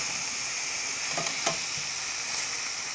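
Sausages sizzle in a frying pan with a steady, soft hiss, and a couple of light utensil clinks sound near the middle.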